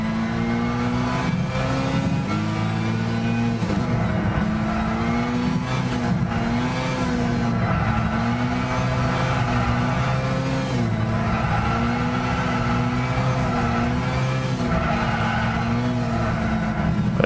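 A Mazda race car in Gran Turismo 6 cornering hard, its engine droning loudly and steadily while pitch rises and falls through the turns, with tire squeal woven throughout and no talk.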